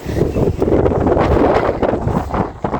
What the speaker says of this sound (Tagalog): Ang lamig. Mahangin pa rin.